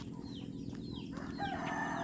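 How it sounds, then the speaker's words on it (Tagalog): Caged chickens at a plantation, with several short clucks and a rooster's crow rising in the second half, all nearby and moderately loud over a low hum. "Ilang manok nakakulong din."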